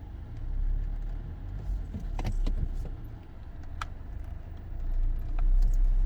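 A Hyundai Alcazar creeps forward slightly, a low steady rumble swelling and easing, with scattered small clicks and rattles inside the cabin.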